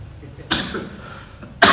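Two sharp, close coughs from a man preaching a sermon, the first a moderate burst and the second louder, separated by about a second of quiet room tone.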